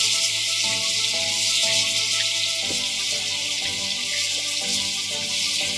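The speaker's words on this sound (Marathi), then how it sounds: "आता या फोडणीमध्ये बांगड्याचे तुकडे आपल्याला घालायचे मॅरिनेट केलेले आणि ते असे परतायचे" Marinated mackerel pieces frying in a hot spiced tempering, a loud continuous close sizzle with faint clinks of stirring and no talk.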